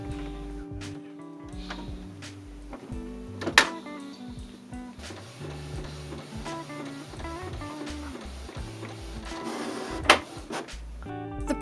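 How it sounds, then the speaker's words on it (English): A Canon IP8700 wide-format inkjet printer running art prints in a home studio: whirring feed motors, mechanical clicks and sliding carriage passes with two sharp clunks, heard up close and alone for about twelve seconds. "I'm gonna start printing the monthly prints for the print club."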